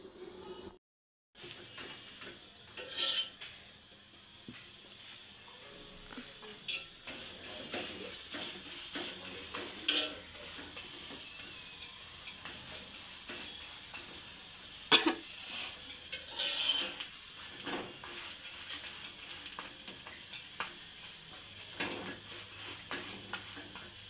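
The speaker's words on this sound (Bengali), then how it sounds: "লাল লাল করে ভাজলে ভালো লাগবে পরোটাটা।" A paratha fries in a pan with a steady, quiet sizzle, joined by close scraping and stirring strokes of a utensil against the pan and a few louder knocks, with no talking.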